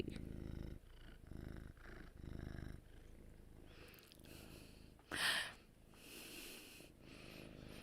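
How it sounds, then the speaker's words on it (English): A cat purrs in rhythmic rasping cycles, soft and fairly close with breathy pulses in and out, and one brief louder sound midway. "if he was facing the mic and purring at full volume"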